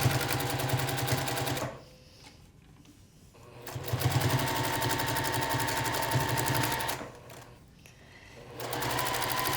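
A sewing machine doing free-motion quilting through a quilt block and batting, a fast steady mechanical hum that stops briefly twice and resumes, close and continuous, with no talking.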